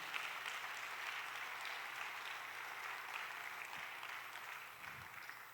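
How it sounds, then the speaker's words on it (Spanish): A church congregation applauds steadily through a sermon, a dense, even wash of clapping that holds at a constant level for several seconds, fairly distant and soft. "Dele fuerte el aplauso al Señor."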